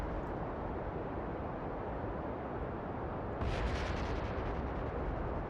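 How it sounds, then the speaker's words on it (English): A rocket crashes and explodes in Kerbal Space Program. A sudden rumbling blast rises out of a steady roar of engine noise and then fades back into it. "Now it hit."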